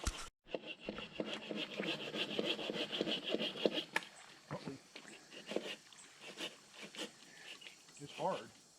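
A sycamore tree is sawn for firewood with steady rhythmic back-and-forth rasping strokes that are close and clear at first, then thin out into scattered scraping and wood knocks, with some voices toward the end.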